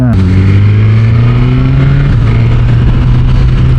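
Kawasaki Ninja 1000SX or Suzuki GSX-S1000GT inline-four sport motorcycle engine pulling hard under acceleration, a loud steady drone with rising harmonics close to the rider, continuous throughout.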